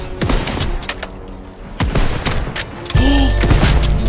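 Rapid bursts of gunfire in a WWII shooter game, several sharp close shots and short automatic volleys cracking in quick succession, loud and dense throughout.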